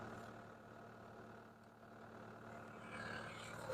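Cat 287B skid steer diesel engine settling back to idle, a low steady rumble with a faint even throb, heard close and continuous without any speech.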